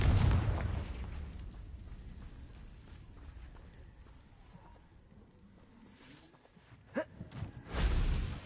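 A Confringo fire spell explodes in the Hogwarts Legacy video game, producing a deep booming blast at the start that fades into rumbling debris, a sharp crack near the end, then another heavy boom.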